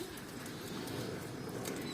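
Soft, low pigeon cooing runs steadily beneath a constant hiss of background noise, fairly faint and continuous throughout.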